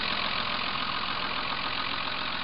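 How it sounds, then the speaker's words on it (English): First-generation Toyota Prius hybrid engine idling with jumper leads attached, a steady close mechanical hum with a fast, even low pulse and no voices. "Here we have the engine running."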